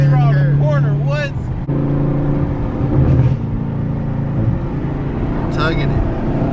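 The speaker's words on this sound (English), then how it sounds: "Going 60 around that. Around the turn, bro." Camaro 2SS engine droning and surging as the car takes a corner at speed, a steady low hum with rising and falling pitch heard close under excited talk from the occupants.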